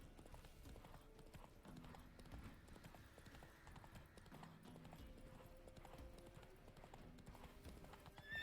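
The horse Roach trots in The Witcher 3, steady clip-clop hoofbeats at a moderate pace with an occasional whinny, heard at low volume within the game's ambient soundscape.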